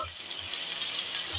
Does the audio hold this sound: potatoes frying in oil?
yes